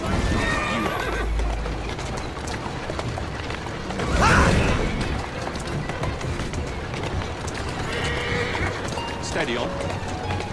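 A horse in the video game Assassin's Creed Syndicate whinnies once, loud and close, amid continuous game noise, with a voice speaking over it.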